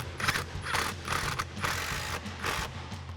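An impact driver with a T50 Torx bit and extension snugs down seat bolts in a 2016-2024 Camaro, giving rapid ratcheting, hammering bursts in several repeated pulses, close and loud with no voices.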